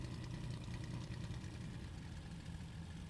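Twin engines of a Bf110C aircraft in the flight game IL-2 Cliffs of Dover, a steady low droning rumble with a throbbing beat, running at full throttle during the takeoff roll.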